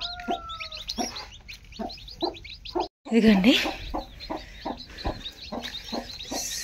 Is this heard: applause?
no